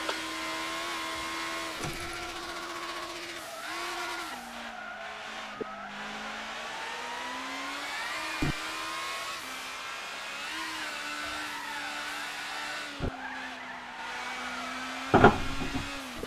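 Steady, near engine drone of a Honda GT500 race car in Gran Turismo 6, pitch rising and falling through gear changes on a time-trial lap, with a brief tire squeal near the end.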